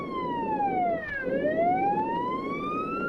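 In a video game, a police car siren sweeps downward, then climbs back up in one long electronic wail over a low engine rumble, with nobody speaking.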